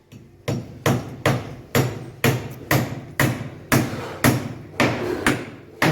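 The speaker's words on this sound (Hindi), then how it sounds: "साइड में आप कीले मारो दोस्तों तो 4 इंची कील ज़रूर मारें, ये बटनों में।" A hammer drives 4-inch nails into plywood shuttering in a steady series of about thirteen sharp, loud strikes, each ringing briefly before the next, close by with no talk.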